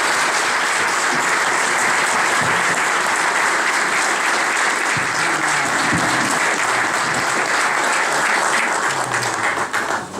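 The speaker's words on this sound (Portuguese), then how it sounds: "peço uma salva de palmas" Ceremony audience applauding the honorees in a municipal hall, a loud, dense, continuous clapping from a sizeable crowd that holds steady for about ten seconds before tapering slightly at the end.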